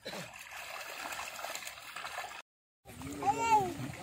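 Water pouring and splashing into a container prepared for catfish, a trickling, gurgling stream under faint background sounds, briefly cut off before resuming with a voice speaking over it.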